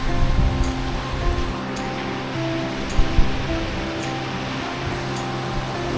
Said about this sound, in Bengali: আর এখানে বয়ে চলেছে সুন্দর একটা নদী।